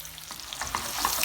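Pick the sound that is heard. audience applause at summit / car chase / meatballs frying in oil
meatballs frying in oil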